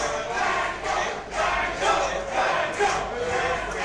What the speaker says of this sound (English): Bangkok cheering in the background.